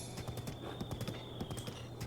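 Horse hooves clip-clop on the ground in Zelda: Breath of the Wild, a quiet steady run of hoofbeats with a faint background tone.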